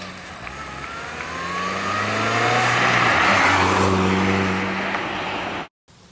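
A 2005 MINI Cooper S with a supercharged 1.6-liter four-cylinder accelerates hard, its engine note climbing through rising pitch sweeps, loud and close for several seconds before cutting off abruptly.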